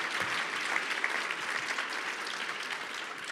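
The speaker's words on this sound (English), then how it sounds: "One more round of applause, please, for both Richard Price and the Staines sisters." An audience at a civic awards ceremony gives a full round of applause, a dense and even roar of clapping from many hands that stays steady for the whole stretch.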